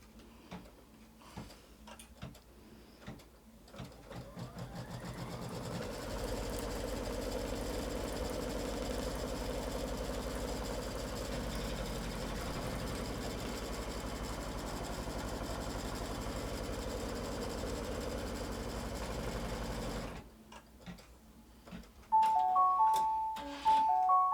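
An embroidery machine stitches a quilt block in place in the hoop, a steady mechanical run of rapid stitching that holds for about fourteen seconds between softer ticking and clicking at the start and end.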